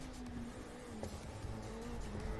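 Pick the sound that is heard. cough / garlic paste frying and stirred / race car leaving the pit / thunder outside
race car leaving the pit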